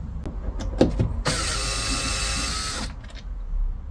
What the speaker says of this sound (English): I'm removing the 4 screws around the bit that holds on the gear selector